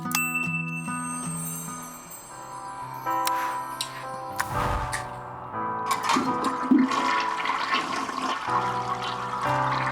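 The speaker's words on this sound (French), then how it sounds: "Vous avez tiré toutes les chasses d'eau." A toilet flushes in the video game Unpacking, with a loud gurgling rush of water rising over light chiming game tones, then swirling away while the music continues.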